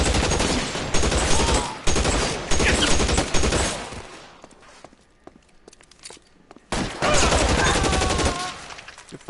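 Bursts of Tommy gun fire in the 1940s crime game L.A. Noire, loud and close, several rapid rattling volleys broken by a short quieter gap with scattered single shots and footsteps.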